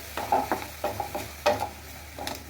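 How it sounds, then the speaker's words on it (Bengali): Grated coconut fries in a pan with a steady sizzle, broken by a series of close stirring scrapes in an uneven rhythm. "ভালো করে আমি লাল লাল করে নারকেলটা ভেজে নেব।"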